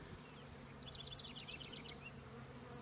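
A honeybee swarm clustered on a branch gives off a steady, soft, continuous buzz with faint higher flickers, fairly quiet and unbroken throughout.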